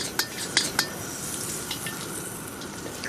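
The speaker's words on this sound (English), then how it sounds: "I've already got onions and tomato frying away in oil" Steady hiss of onions and tomato frying in hot oil, with a few sharp clinks of a utensil scraping the pot early on as it's stirred.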